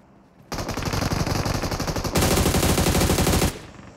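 Automatic gunfire in the mobile battle royale game PUBG Mobile comes as a dense, rapid, loud burst of shots lasting about three seconds, growing louder partway through before cutting off abruptly.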